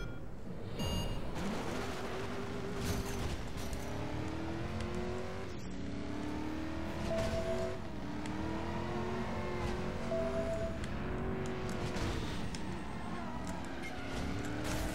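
Engine sound of a car in the Driver San Francisco multiplayer racing game, revving continuously and shifting pitch over a steady layer of game noise and music for the full stretch, with no one talking.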